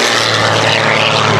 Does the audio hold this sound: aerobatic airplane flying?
yes